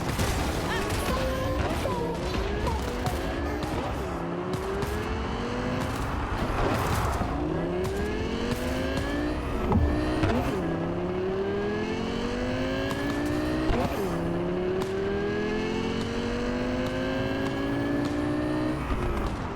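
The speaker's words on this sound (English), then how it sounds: "This car's useless off-road." A car races off-road in the video game Cyberpunk 2077, its engine droning loudly and steadily, the pitch sweeping up and down through gear changes, with thumps and crashes over rough ground.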